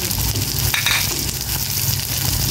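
Peeled peanuts are stirred in a pan with a little oil, giving a steady close sizzle with scraping and light clinking of the nuts against the pan, and no talk.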